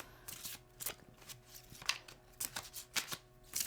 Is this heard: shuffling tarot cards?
yes